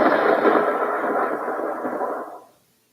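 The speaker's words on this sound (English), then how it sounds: "Wow, I see big thunder clouds up there." A thunder sound effect from a Dark Forest adventure game on Alexa: a loud, deep rumble that rolls for about two seconds, then fades out into silence.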